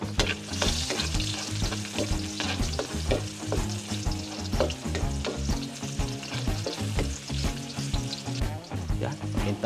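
Garlic sautéing in hot oil for a Batangas-style chicken menudo, a loud continuous sizzle and crackle overlaid with a rapid run of utensil taps and scrapes against the pan.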